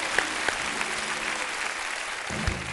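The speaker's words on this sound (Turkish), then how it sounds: "Amcama bir alkış." Studio audience applause on a Turkish television talk show, steady and moderately loud throughout, with a few sharper claps standing out and no talking over it.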